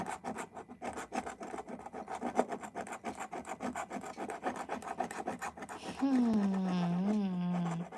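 A Swedish scratch-off lottery ticket is scratched with fast, repeated rasping strokes up close, followed by a voice near the end.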